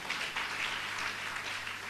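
Applause from a congregation at a Sunday worship service, a continuous dense patter of many hands clapping at moderate level, alone without talk.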